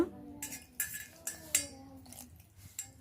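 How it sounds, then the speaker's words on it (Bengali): A spoon mixes a thin batter in a bowl, giving a handful of soft, irregular clinks and scrapes against the bowl, quiet and close. "হাত দিয়ে বা চামচ দিয়ে এটাকে পাতলা করে একটা বেটার তৈরি করে নিতে হবে"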